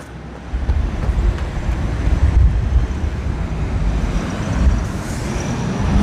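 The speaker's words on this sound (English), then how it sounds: "It's a Sunday morning and there's still a lot of noise, traffic in Sydney." Sunday morning street traffic in Sydney near Hyde Park, a loud steady roar of passing cars and heavier vehicles with low rumbling and wind noise, continuous throughout with no speech.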